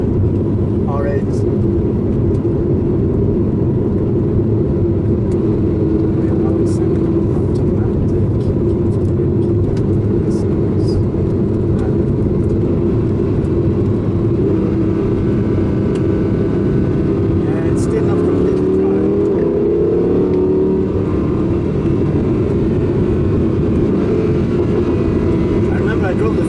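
Audi R8 Coupé V10 engine with 420 horsepower, heard from inside the cabin while driving on a track, a steady loud droning rumble throughout, with people talking over it.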